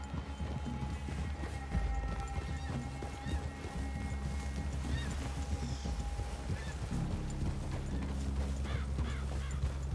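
Horses walk along a woodland clearing in the video game Red Dead Redemption 2, hooves clip-clopping in a steady, continuous rhythm over low ambient game sound, with occasional distant bird calls.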